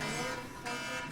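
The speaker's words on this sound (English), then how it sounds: "That alarm scared me." A loud electronic alarm going off in a classroom, a sustained tonal blare that shifts pitch partway through and fills the whole moment.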